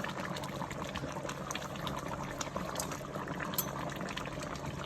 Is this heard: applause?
no